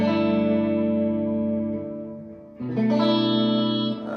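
Clean electric guitar on the middle pickup through a Mesa Boogie JP2C amplifier, sustained chords ringing close and clear, fading before a new chord is struck and held, with no talk.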